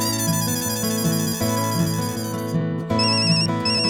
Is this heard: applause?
no